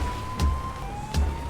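A police car siren in GTA 5 wails in two quick repeating sweeps over a steady low engine hum, fairly close and clear, with no talking.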